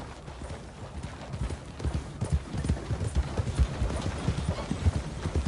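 Horse hooves clip-clop at a steady walking rhythm in the Western game Red Dead, faint at first and growing louder and closer, with no talk over them.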